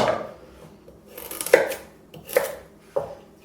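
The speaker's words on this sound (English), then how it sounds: "I slice them up into, like basically like 3-inch chunks" A knife cuts carrots into roughly 3-inch chunks on a cutting board, making four crisp, separate chops spaced under a second apart, close and clear with no talk.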